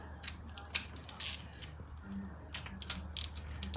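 Ratchet wrench tightening engine mount bolts while a car engine is being fitted, giving scattered sharp metallic clicks and short ratcheting bursts against a quiet workshop background.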